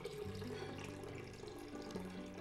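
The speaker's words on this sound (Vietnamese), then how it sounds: "Cái sữa của mình bắt đầu nó chảy ra nè" Homemade soy milk strains through a filter, pouring in a steady, continuous liquid gush that stays close and fairly loud for the whole stretch, with no speech.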